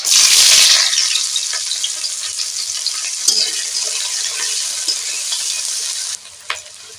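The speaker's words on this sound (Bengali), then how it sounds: "পেঁয়াজটা হাফ ভাজা করে নেব" Onion half-fries in hot mustard oil with bay leaf and cardamom in a pan, a loud steady sizzle that fills the whole stretch, with a brief clatter of stirring before it drops away near the end.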